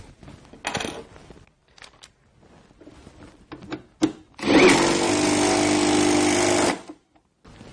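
A Bosch GDR 12V-110 cordless impact driver whirs in a steady, loud burst for about two seconds tightening a bolt, preceded by a few scattered clicks and metallic knocks.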